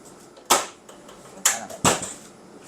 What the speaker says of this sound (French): c'est le bruit de la porte du four